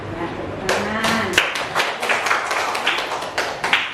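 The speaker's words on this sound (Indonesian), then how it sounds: "Ya, tepuk tangan." A class of pupils claps hands together in a lively, uneven burst of sharp close slaps lasting several seconds, with voices mixed in.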